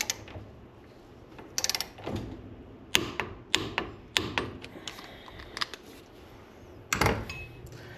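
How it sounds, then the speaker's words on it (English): A torque wrench tightens a 19 nut on a 2025 Husqvarna TX300 fork during a suspension service, giving a series of sharp ratcheting clicks and metallic taps in irregular bursts, close and fairly quiet. "Torque wrench set to 25 foot-pounds."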